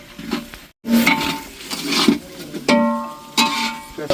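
Onions frying in a pan for a Gujarati cashew garlic curry, with a steady sizzle under repeated scraping and clanking of a utensil stirring against the pan, close, with no talking.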